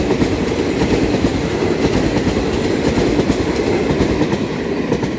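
A Puyuma Tze-Chiang express train, a TEMU2000 tilting unit on Taiwan's Hualien–Taitung line, rushes past close by with a loud, steady rumble and rhythmic clattering of wheels over the rails.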